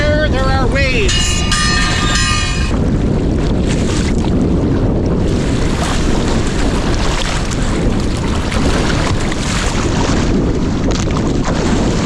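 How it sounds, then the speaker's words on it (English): Rough ocean waves surge and wash in a constant loud roar on a sea kayak trip off Nova Scotia, mixed with heavy wind buffeting, with a brief tonal sound early on. "In case you weren't aware, there are waves."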